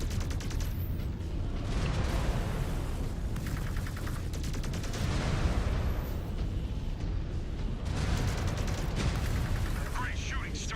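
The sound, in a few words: weapon fire from battle mechs in a video game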